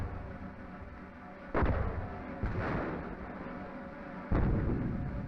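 Heavy artillery fire during the WWII siege of Tobruk: three deep, booming blasts a second or so apart, each followed by a rolling rumble over a constant noisy background, distant but powerful.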